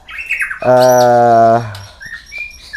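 A white-rumped shama (murai batu) gives a loud, harsh squawking call lasting about a second. Fainter chirps come before and after it.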